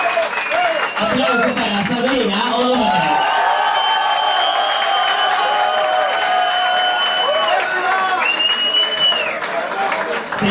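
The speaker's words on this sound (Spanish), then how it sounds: "Aplausos para Sabrina O'Donnell" Loud, sustained studio audience applause for a contestant on a Spanish-language reality competition show, with cheering and a whoop amid the clapping and music underneath for around ten seconds.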